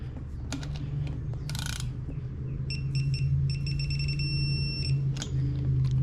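A ratchet with a 6-point socket tightening a bolt on a Buick 3800 engine, fast runs of sharp metallic clicks in several short bursts, close up over a faint background hum, no talking.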